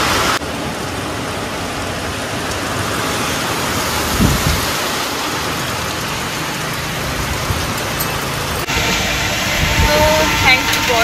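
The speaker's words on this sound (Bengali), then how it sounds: "একদম ঝমঝম করে বৃষ্টি।" Heavy rain pours down steadily and loudly in a dense, continuous roar, with a brief thump near the middle and the sound shifting slightly late on; a voice is faintly present beneath the downpour.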